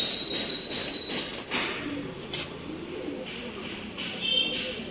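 Male Plaanka breed pigeon cooing softly in a steady, low murmur, with faint chirps and some background noise from a pigeon market setting in Bengaluru.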